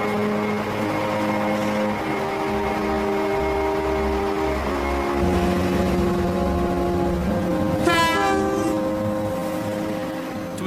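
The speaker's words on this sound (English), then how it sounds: "the train doors open, and the first Great Western service chugs away" A Great Western train rumbles steadily through a station with low engine drone, then a short two-tone horn sounds near the end over the continuing rail noise.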